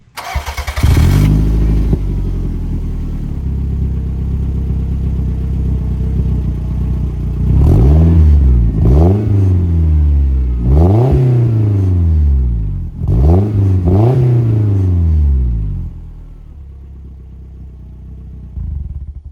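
A 1992 Toyota MR2 sports car engine idles with a deep rumble, then the exhaust barks through several sharp, loud revs in quick succession before settling back to idle.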